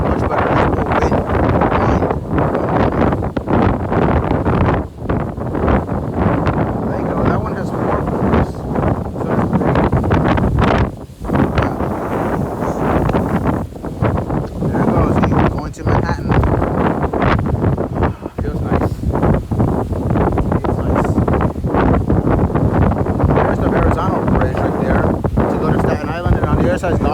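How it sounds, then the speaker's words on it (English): Strong wind roars over the open deck of the Staten Island Ferry, a loud, constant rumble and buffeting across the microphone, with a voice faint beneath it. "There's more wind."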